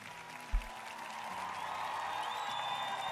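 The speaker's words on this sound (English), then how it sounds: "let's give Tradosio a round of applause" Applause during a livestreamed review of D&D homebrew, heard faintly and distantly: a soft, steady wash of clapping with one brief thump near the start, low in level throughout.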